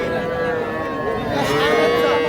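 Young bull calves low amid a busy, noisy cattle market crowd, a continuous bellowing drone over general chatter and bustle.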